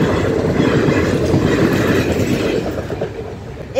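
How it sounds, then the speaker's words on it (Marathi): An express train rushes past a village railway crossing, its loud, continuous rumble and rhythmic wheel clatter filling the air up close before easing slightly toward the end. "एक्सप्रेस गाडी होती आता गेलेली आहे पटकन"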